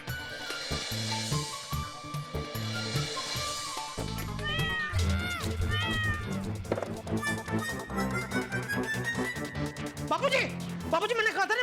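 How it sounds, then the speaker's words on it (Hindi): A cat meows several times, drawn-out wavering cries, while people talk over it in a busy indoor scene from the Hindi TV comedy Taarak Mehta Ka Ooltah Chashmah. "अभी सुनी उसकी आवाज म्याऊं म्याऊं आई अभी"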